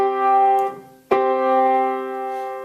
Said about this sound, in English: A fifth sounds like this.